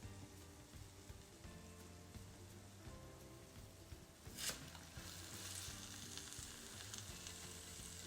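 Slices of strawberry shortcake French toast fry in a pan with a steady, soft sizzle and crackle throughout, alone with no talking and a faint brief clatter midway.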